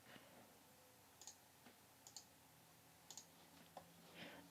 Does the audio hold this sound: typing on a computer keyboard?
yes